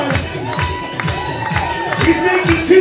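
A crowd cheers and applauds for a performer doing tricks while making drinks. Whoops and shouts rise over scattered clapping, close and lively, with rhythmic bursts of noise throughout.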